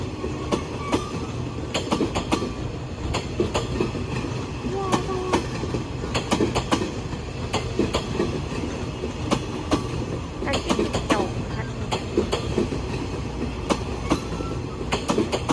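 A train rolls through Bang Sue junction station in Bangkok with a loud, close clickety-clack of wheels over rail joints. The rumble stays continuous, the metallic clicks repeat, and a voice speaks faintly underneath.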